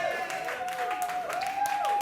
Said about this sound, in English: Let's have another round of applause for Mark, ladies and gentlemen